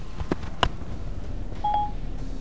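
Telephone dialing tones from a Siri-initiated call through Apple CarPlay, a quick sequence of short electronic touch-tone beeps followed by a single sustained tone, clear and close.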